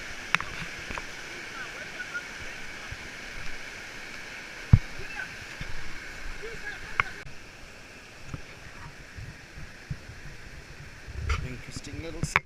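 Water rushing along Eora Creek on the Kokoda Track, a steady broadband stream noise holding throughout at moderate level, with a few sharp knocks and splashes breaking through.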